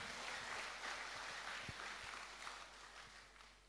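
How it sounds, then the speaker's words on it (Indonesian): A church congregation claps for Jesus during a Christmas service, a faint, steady wash of applause that carries on for several seconds and tapers slightly at the end. "Tepuk tangan bagi Tuhan Yesus."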